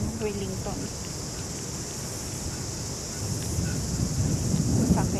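Strong wind buffets the microphone outdoors in Wellington, New Zealand, a constant low rumble and roar that swells toward the end, with a brief bit of talk early on.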